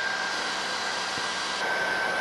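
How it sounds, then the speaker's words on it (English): A hair dryer blows steadily and close up over a watercolor painting, a continuous loud whooshing hum with a slight rise in intensity near the end, no voices. "let's hit it with the hairdryer"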